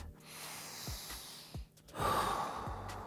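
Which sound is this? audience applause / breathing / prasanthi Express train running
breathing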